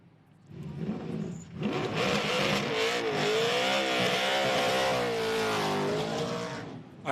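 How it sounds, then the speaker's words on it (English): A race car at a historic sprint meeting roars through a smoky burnout off the start line, then accelerates hard, the engine note sweeping upward and staying loud and close for several seconds before easing off. "The XYGT makes a big smoky burnout off the line and then gets down the next straight in a great hurry."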